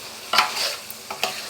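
Chicken pieces for a curry sizzle in a pan while being stirred, giving a short burst of crackling with a few sharp scraping stirs, close and moderately loud.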